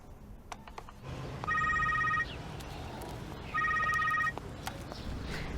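A telephone rings twice in a quiet room, two evenly spaced electronic trilling bursts with a pause between them, over low background hiss and soft shuffling movement.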